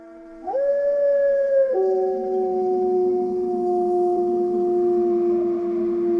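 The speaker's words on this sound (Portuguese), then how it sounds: "todo mundo começou a ouvir uivos muito fortes" A wolf howl rises sharply, then holds a long, loud, steady wail that slides down slightly and sustains to the end. It sounds close and clear, with no talking.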